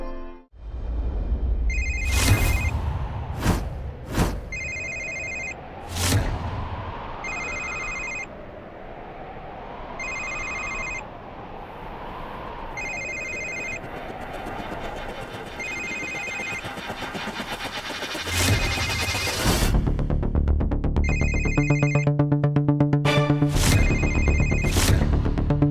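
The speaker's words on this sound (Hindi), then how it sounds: "फोन तो यही कहीं से बज रहे हैं।" A telephone rings in repeated bursts, loud and close, with an engine-like rumble and clatter in the background.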